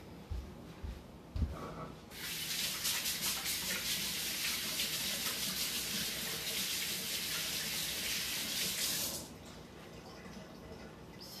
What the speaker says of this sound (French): Je reviens, je vais aller me laver les mains.